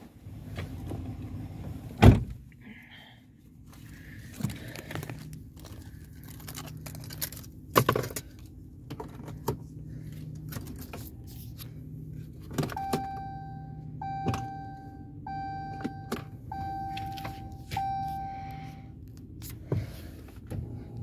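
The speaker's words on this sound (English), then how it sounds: "Power seats." Electric power seat motors whirring inside a 2016 RAM 2500 SLT Mega Cab pickup, several short steady hums starting and stopping, close by, with occasional clicks and knocks between them.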